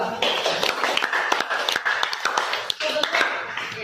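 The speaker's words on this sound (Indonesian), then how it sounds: "Mari kita beri aplaus untuk kelompok 2." A classroom audience claps for a student group that has just finished presenting, a dense patter of many hands close by that runs steadily through the moment.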